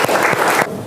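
Applause from a classroom full of students, a short burst of mixed claps that stops abruptly partway through, leaving quiet room tone.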